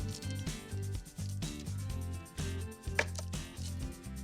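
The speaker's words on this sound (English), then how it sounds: "to dress up these squares, I find I like to trim away the edges" A knife trims the edges off butter tart squares with repeated rhythmic cuts and scrapes through the bars, close and faint, heard alone.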